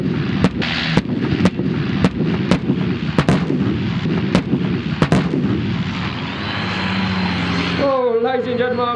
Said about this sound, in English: Be ready for some very loud bangs and explosions.